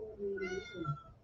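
A pet cat meows in a drawn-out, wavering call lasting about a second, close and fairly clear, with a faint voice-like murmur beneath it.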